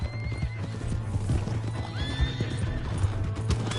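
Horse hooves clip-clop in a steady rhythm in Red Dead Redemption 2 as a horse whinnies, close and clear over a low rumble, with no talk.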